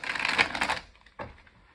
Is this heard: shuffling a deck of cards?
yes